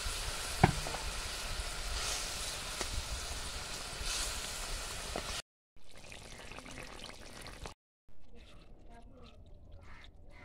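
Fish frying in oil in a pan after water and sugar are added, a dense loud sizzle that cuts out abruptly twice and returns quieter.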